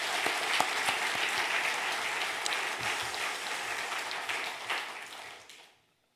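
A church congregation applauds at an early-morning prayer service, sustained dense clapping filling the room that tapers off and stops abruptly near the end.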